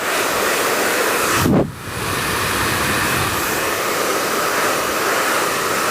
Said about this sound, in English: You can see by the power of this dryer, I'm not having to hold the nozzle too close to the hair.